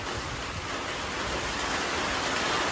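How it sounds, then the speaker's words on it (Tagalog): Steady, dense broadband roar of heavy rain mixed with gusting wind, constant and close throughout with no talking. "Lakas pa rin ang hangin at saka ulan."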